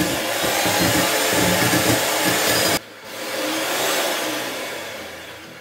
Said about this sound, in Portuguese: Vamos bater? Ele tem medo da batedeira, então eu vou ver se eu consigo bater com ele aqui.